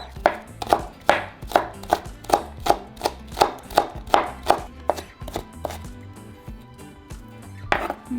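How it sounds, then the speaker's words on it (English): Knife chopping the green part of an onion on a board, a quick steady run of crisp close taps that slows and thins out toward the end. "now just finally chop the green part"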